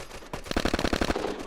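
Rapid automatic gunfire in the online shooter Red Crucible Firestorm, a loud burst of about a dozen evenly spaced shots after a single opening crack, close and dominant.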